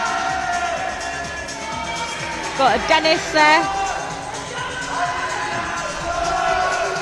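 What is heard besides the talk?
crowd cheering at ice climbing competition in Sunderland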